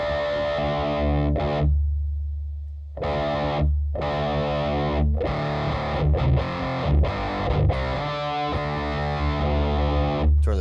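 Electric guitar played through an Electro-Harmonix Cock Fight pedal, giving a distorted, filtered tone in loud chords and riffs with short pauses between phrases, no talking.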